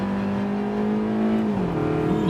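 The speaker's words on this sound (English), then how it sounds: "God, it's a little motor, but it sounds good." A 2012 Fiat 500's small engine holds a steady, fairly loud idle-to-rev tone heard up close, then the pitch dips and rises again as the throttle is blipped, with no talking.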